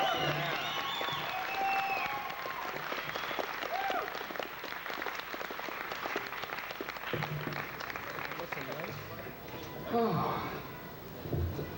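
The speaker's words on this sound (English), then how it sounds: "let's give a warm round of applause for Mr. Jeremy Bulloch, Boba Fett, alive." A convention audience gives Star Wars actor Jeremy Bulloch, Boba Fett, a warm round of applause, dense continuous clapping from a large crowd that carries on for the whole stretch, with voices talking over it now and then.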